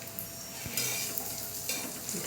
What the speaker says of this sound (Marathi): हे आहे तो कांदा आता तळायला टाकायचा